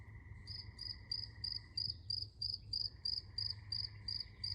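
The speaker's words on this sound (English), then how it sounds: "I'm actually going to play a little sound of a cricket chirping." A cricket chirps in a steady, rapid rhythm of short high trills, fairly close, over a faint low hum.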